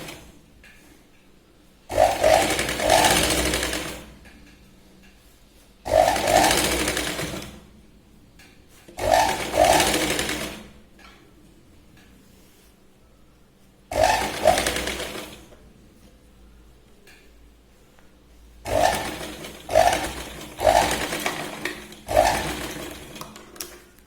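A sewing machine double-stitches a blouse sleeve in six separate loud, close bursts of rapid whirring, each lasting one to two seconds, with quiet pauses between them.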